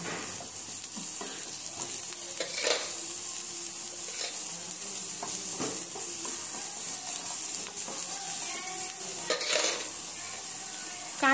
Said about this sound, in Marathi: कांदे छान लालसर भाजून घेऊया आपण